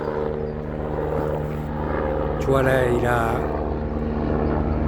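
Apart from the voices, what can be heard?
firefighting helicopter flying overhead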